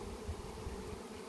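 Honey bees fly around a hive site during the middle of the day, a close, continuous buzzing drone with a steady hum and slight wavering, heard alone without talk.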